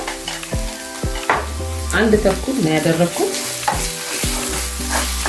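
Vegetables and tomato paste frying in a pan for chicken cacciatore, a close, steady sizzle broken by repeated rhythmic stirring scrapes.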